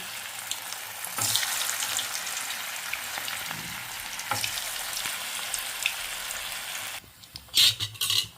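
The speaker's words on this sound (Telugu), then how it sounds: "చూడండి ఫ్రై అవుతున్నాయి గోల్డెన్ కలర్లోకి రావాలి" Cabbage manchurian balls deep fry in hot oil over a low flame, giving a steady close sizzle and bubbling, with a few clinks near the end.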